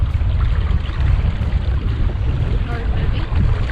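MacGregor 26X sailboat moving at about 2.5 knots under just the jib on a Tampa test run, water rushing and wind buffeting the microphone loudly and steadily, with voices talking over it.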